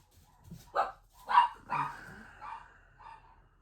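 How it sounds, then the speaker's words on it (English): A dog barks four or five times in quick, uneven bursts, close and fairly loud, with quiet pauses between the barks. "Bitch ass dog, man."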